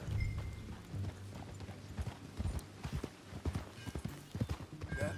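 Horse hooves clip-clop at a walking pace in Red Dead Redemption 2, a string of moderately close, uneven thuds over a low hum.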